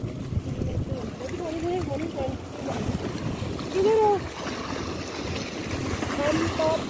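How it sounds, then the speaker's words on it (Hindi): Strong water and choppy waves slap around boats out on open water, a steady rushing wash with wind buffeting the microphone and a person talking over it throughout. "यहाँ पे पानी का ज़ोर है और लहरों की चल थल।"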